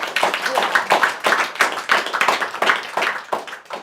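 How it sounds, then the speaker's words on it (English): An audience at a panel discussion applauds the speakers with a dense, steady round of clapping from many hands, fairly close and lively, lasting throughout. "a round of applause to our speakers"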